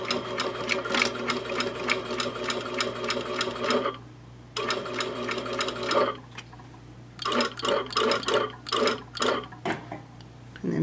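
A sewing machine stitches a quarter-inch seam joining an interior pocket panel to its facing at 2.5 stitch length, running in close, rapid bursts with short pauses and stop-start backstitching near the end.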